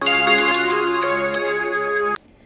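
A school bell rings with a bright, sustained electronic tone for about two seconds, loud and close, then cuts off abruptly to near silence.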